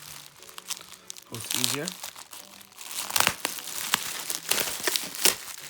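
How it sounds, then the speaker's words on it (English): Plastic packaging on an honor box vending unit is cut open, giving close crinkling, rustling and brief tearing sounds while a person talks. "Let me just actually cut this open real quick"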